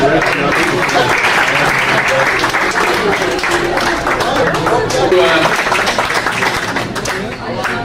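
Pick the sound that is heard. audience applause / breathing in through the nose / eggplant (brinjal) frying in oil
audience applause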